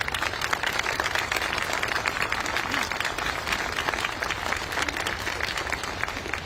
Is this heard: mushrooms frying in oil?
no